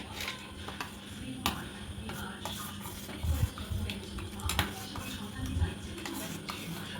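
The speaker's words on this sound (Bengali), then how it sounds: "চার চামচ মতো পাউডার দুধ নিয়ে নেব খুব ভালো করে মিশিয়ে নেবো" Powdered milk being stirred into a pot, with a spoon scraping and tapping against the metal in irregular clinks over a soft background hum.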